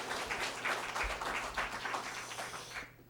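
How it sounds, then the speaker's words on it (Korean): A church congregation applauds during a Sunday service, a steady wash of many hands clapping over a low hum, fading out at the end. "박수 한번."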